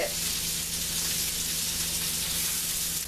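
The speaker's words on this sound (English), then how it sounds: "I think I'm going to go ahead and stir it a little bit" Food frying in a pan with a steady, dense sizzle that holds evenly throughout, close and fairly loud, with no distinct stirring strokes standing out.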